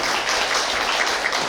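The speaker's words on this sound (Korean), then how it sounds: "여러분 박수 한번 부탁드립니다" An audience at a Korean public science lecture on color gives a brief, dense burst of steady applause, with no voices over it.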